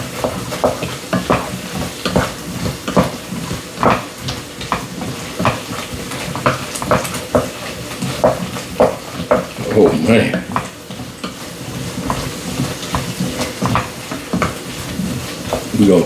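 Lamb stew with tomato being stirred in a pot, a spoon scraping and knocking in a steady rhythm over a continuous close sizzle, loud and near throughout.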